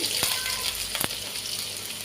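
Finely chopped onion dropped into a hot tempering of oil and cumin for a chickpea snack, making a continuous sizzle with a couple of sharp stirring knocks, close and without speech.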